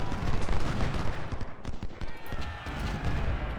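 Artillery cannon fire from 12-pounder guns in the Civil War strategy game Ultimate General: Civil War, a dense rumble of repeated booms and crackling gunfire layered with battle noise, loud and continuous throughout.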